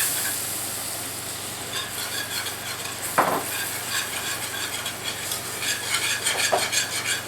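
A whisk stirs cold milk into a hot roux in a pan for country fried steak gravy. It makes a steady, close wet scraping and swishing with a few sharp metal clinks against the pan, and no voices.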